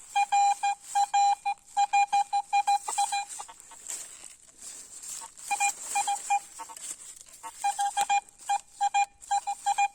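A metal detector sweeping a flat meadow over a buried billon 10-kopeck coin gives loud, steady tonal beeps in quick repeated bursts, pausing briefly mid-clip before the signal returns, with no talking.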